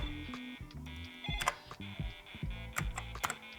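Irregular clicks of keys tapped on a faulty keyboard of a 30-year-old Optimus laptop, mixed with a buzzing electronic hum and beeping tones underneath.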